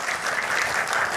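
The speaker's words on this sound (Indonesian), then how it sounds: "Tepuk tangan untuk Gus Yakut." Audience applause at a speech event: a brief, steady burst of clapping from a crowd, heard alone without talk.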